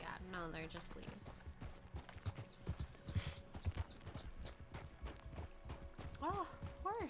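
Hooves of a horse in a video game clip-clop in a steady walking rhythm at moderate distance, with background game ambience, a brief whinny-like call near the start and end, and people talking over it.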